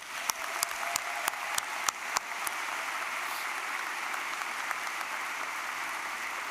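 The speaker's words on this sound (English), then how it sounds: "Can we give them a round of applause, please?" A crowd at a commencement ceremony applauds with steady clapping, a few louder individual claps standing out early before it settles into an even patter.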